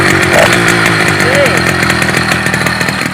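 A small two-stroke motorized bicycle engine fitted with an exhaust tip filter revs loudly and steadily nearby, a raspy buzzing drone with fluctuating pitch and no pauses.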